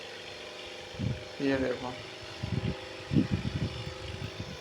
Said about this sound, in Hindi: यहाँ से देखो मैंने ट्रैक्टर को ऑन कर दिया है।